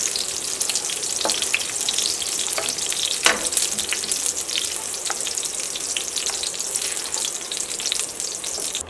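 Ingredients for an egg curry frying in hot oil, a continuous close crackling sizzle with scattered sharp pops and spits throughout, no voices.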